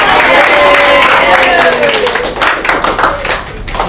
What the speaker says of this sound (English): let us clap for Ashwin Bhai